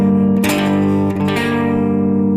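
A guitar strums a minor chord, a bright close attack followed by a sustained ringing decay, with a second lighter strum partway through, heard alone without talk.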